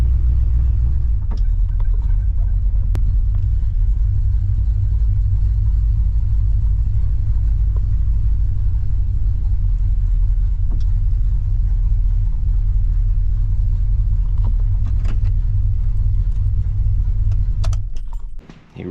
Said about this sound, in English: He really should be idling up more right now, but he's just kind of loading up.